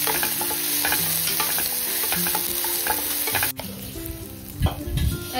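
Onion, tomato and curry leaves with a pinch of asafoetida fry in a hot pan, a loud close sizzle with stirring scrapes and utensil clatter throughout.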